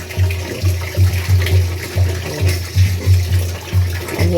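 Water is poured over three-month-old puppies to rinse them during a bath, in a steady run of rhythmic splashing scoops, close and fairly loud.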